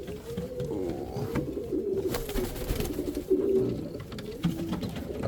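Soft, repeated cooing calls of young nest chicks, hatched together, one of them blackish, sounding close and steady against a low rumbling background with no talking.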